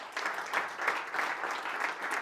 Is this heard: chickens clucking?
no